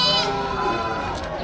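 Goats bleat continuously at a busy livestock market, their wavering calls layered over a murmuring crowd and people talking nearby.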